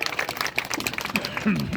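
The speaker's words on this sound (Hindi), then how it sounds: "तो बजाओ ताली इस बात पे" A crowd at a political speech for Ambedkar Jayanti in Jaysinagar breaks into scattered applause, a brief burst of clapping of moderate loudness mixed with crowd voices and some talk.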